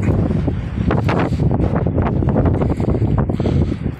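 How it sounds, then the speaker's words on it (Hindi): Strong wind blows across a high mountain meadow, buffeting the microphone in loud, rough, continuous gusts with no talking. "हवा देखिए कितनी तेज़ आ रही है"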